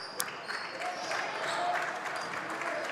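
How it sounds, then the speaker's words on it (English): Hamilton fans applaud their men's basketball team inside Cousin Gymnasium during a game against Tufts, a steady wash of clapping and crowd noise lasting throughout, with a sharp click near the start. "You can hear the Hamilton faithful who have made it out to Cousin Gymnasium applauding their team on a solid effort"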